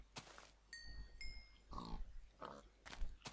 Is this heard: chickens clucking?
no